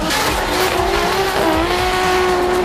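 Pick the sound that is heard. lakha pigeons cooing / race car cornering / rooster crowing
race car cornering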